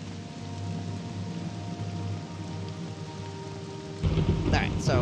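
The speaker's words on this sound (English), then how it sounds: "You have fun, lady, standing out here in the rain." Steady rain pours outdoors in the video game Morrowind, with a thunderstorm rumbling low beneath it and a louder crack of thunder near the end, no voices over it.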